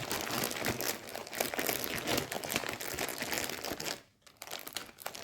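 Plastic resealable zip bag crinkling steadily while cross-stitch kit supplies are unboxed, dense close rustling that drops out briefly near the end, with no talking.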